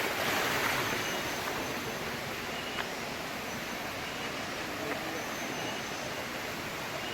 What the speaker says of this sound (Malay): Ini air terjun pertama kali